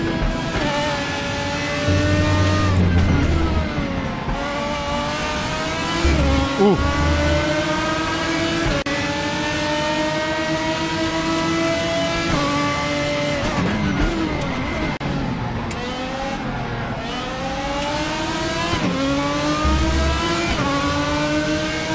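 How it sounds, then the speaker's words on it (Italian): Race car engine in the RaceRoom racing game during an online race at Suzuka, revving hard through rising and falling gear changes with sharp popping backfires between shifts, loud and continuous throughout. "Ma lo sentite come spara tra una marcia e l'altra?"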